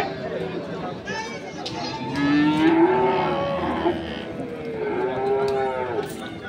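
Holstein Friesian cross bulls at a busy cattle market low repeatedly, several drawn-out moos rising and overlapping in the middle and end of the stretch, with a crowd chattering steadily underneath.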